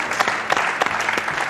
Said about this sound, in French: D'accord, on applaudit l'expert.